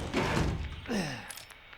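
A cabin door being barred shut in the horror video game Village of Shadows, with a couple of close wooden thuds and scraping knocks, then a fading low rumble.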